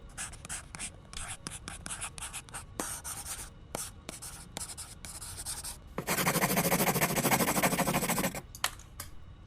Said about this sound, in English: I need a pen and paper.